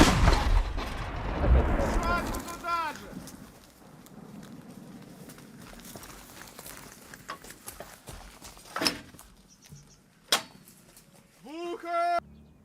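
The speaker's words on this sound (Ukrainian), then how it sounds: "Постріл!" A heavy blast of artillery fire in combat booms at the start and rumbles away, followed by sharper distant reports and shouting voices near the end.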